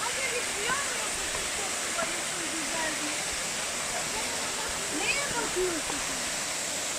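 Constant broadband rush of the Kuzalan waterfall in Giresun, Turkey, nearby, steady and unbroken throughout, with faint voices barely audible beneath it.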